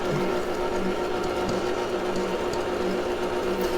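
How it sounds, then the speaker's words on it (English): An electric stand mixer beats flour into madeleine batter, giving a steady, close, continuous motor whir with a faint churning texture throughout and no talking. "I'm going to let the mixer do the mixing today."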